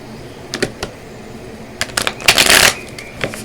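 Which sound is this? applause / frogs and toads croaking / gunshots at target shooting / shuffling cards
shuffling cards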